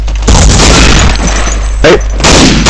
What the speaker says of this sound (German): Da fliegen Granaten